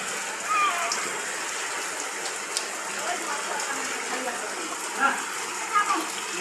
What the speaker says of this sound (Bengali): দেখছেন বৃষ্টি।